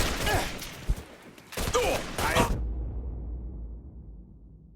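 Gunfire in Mafia III, a few quick bursts of shots with whooshing impacts before the sound cuts to near silence; no voices heard.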